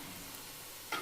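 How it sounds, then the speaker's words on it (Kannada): Pepper and garlic sizzle in hot oil for a tempering, a faint, even frying hiss that lasts about a second. A small sharper crackle rises near the end. "ನಾನು ಇವತ್ತು ಮೆಣಸು ಬೆಳ್ಳುಳ್ಳಿ ಹಾಕಿ ಒಗ್ಗರಣೆ ಮಾಡ್ತಾಯಿದ್ದೀನಿ"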